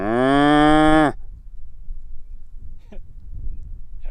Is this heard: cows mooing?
yes